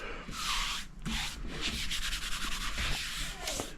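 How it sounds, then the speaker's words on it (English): Hand sanding of a live edge wood tabletop with coarse 50 grit paper, a close, steady series of rasping back-and-forth strokes with brief gaps between passes and no talk. "sanding is the priority today. I've given it a nice sand."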